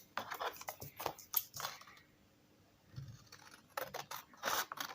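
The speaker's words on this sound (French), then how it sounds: "j'ai plus qu'à couper." Scissors snipping through paper scraps, a quick run of crisp close cuts, a brief pause, then more snips, with no talking.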